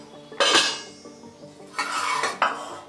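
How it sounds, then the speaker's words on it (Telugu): Washed and air-dried cauliflower pieces, about 500 grams, tip into a wide metal vessel, giving two bursts of clattering and rattling against the pot with a brief knock between, close and clear with no talking. "ఇట్లా వెడల్పాటి గిన్నెలో మనం వేసుకోవాలన్నమాట. గోబీని మొత్తం దీనిలో వేసేస్తున్నాను."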